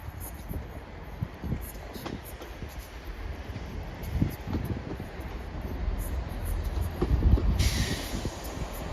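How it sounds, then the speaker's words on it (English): A Chiltern Railways train pulls in along the Shakespeare Line toward Stratford-upon-Avon, its low rumble and rolling wheel noise building steadily over wind, with a faint high squeal of brakes near the end. "This is what I came here for, to see a Chiltern. Train's incoming."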